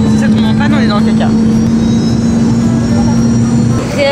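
Airplane jet engine droning steadily and loudly in flight, a continuous roar with a strong steady hum, while voices talk briefly over it.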